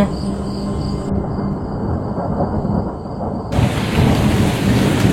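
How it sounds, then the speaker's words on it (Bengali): Rolling thunder over steady heavy rain, with a high insect chirp in the background; the downpour grows louder and denser toward the end. "এই রে, জোর বৃষ্টি নেমে গেল রে"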